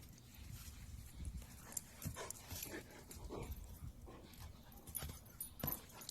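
An excited dog whimpers and pants after its owner finds it, faint whines and breathy yelps in short uneven bursts over quiet scuffling.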